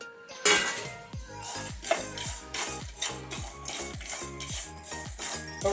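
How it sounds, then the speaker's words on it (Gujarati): Coconut, peanuts and sesame dry-roasting in a pan, stirred with a steady, rhythmic scraping and clinking of the spatula, close and continuous. "ટોપરું સિંગદાણા અને તલ શેકી લઈએ."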